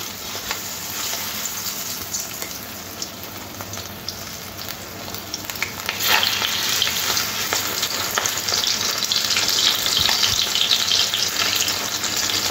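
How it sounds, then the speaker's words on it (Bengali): Marinated prawns fry in white oil in a kadai, a steady dense sizzle that grows louder and brighter about halfway through, with faint scraping of stirring and no talking. "তেল দেওয়ার পরে ম্যারিনেট করা চিংড়ি মাছগুলো তেলের মধ্যে দিয়ে দিলাম।"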